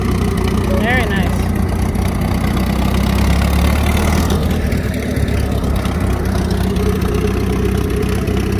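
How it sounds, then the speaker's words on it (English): Tractor engine idling steadily at a parade, a constant low rumble that runs the whole time with outdoor crowd noise and a brief voice early on. "Looks like this will be the last tractor in today's parade."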